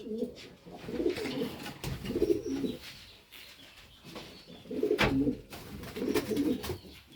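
Pigeons in a breeding loft give soft, low cooing calls in repeated bursts over several seconds, with faint background rustling and no nearby talk.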